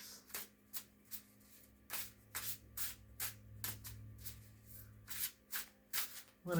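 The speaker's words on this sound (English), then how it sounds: "I'm going to give it a good shuffle today." Steady tarot card shuffle, repeated crisp riffles and slides coming every half second or so, near and fairly quiet, no voices over it.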